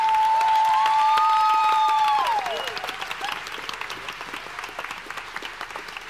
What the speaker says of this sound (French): vous allez me faire le même tonnerre d'applaudissements pour les doctorants et doctorantes de ce soir